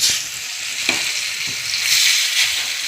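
Aloo masala vadi pieces fry in hot oil on a pan, a continuous bright sizzle with a few soft taps and scrapes of turning, close and steady with no talking.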